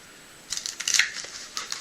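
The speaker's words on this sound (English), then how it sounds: "Now I'm throwing cards all over the place." Tungstene deck playing cards dropping and scattering nearby, a quick burst of light papery slaps and flutters that trails off into a few scattered card clicks.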